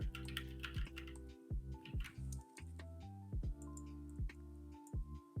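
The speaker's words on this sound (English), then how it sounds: "Have you tried a mechanical keyboard before?" Keys clack on a mechanical keyboard in quick, irregular bursts of typing, close and fairly quiet, with a few brief pauses between runs of keystrokes.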